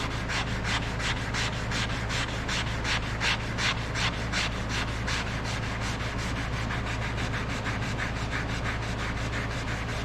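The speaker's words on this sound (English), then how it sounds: "We're going to try one of these sanding blocks. That's a fine sandpaper." Steady rhythmic rasping strokes of a fine-grit sanding block worked by hand along a knife blade, close and continuous with even back-and-forth cycles and no talking.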